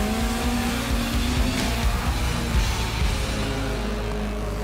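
A 1980s Group B rally car engine runs loud and steady close by, a continuous raw mechanical roar with a strong low hum and no voices over it.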